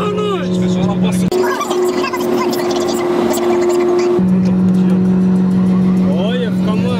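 A 1200 cc motorcycle rumbles past at a car-enthusiast meet, its steady engine drone rising and falling as it draws near and moves off, loud and close, with other vehicle noise around it.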